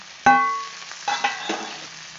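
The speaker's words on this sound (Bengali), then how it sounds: "আমি কিছু মটরশুঁটি নিয়েছি ওর মধ্যে দিয়ে দিলাম আবারও ভালো করে কষাবো" Cauliflower and peas stir-fried in oil for a rohu fish curry with potatoes: a ringing metal clang of spatula on pan, then a few lighter scrapes and knocks over a quiet sizzle, close.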